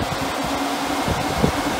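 A 14-inch UTV cooling fan runs on its high setting, giving a steady, close whooshing rush of air with a low hum beneath it and no talking.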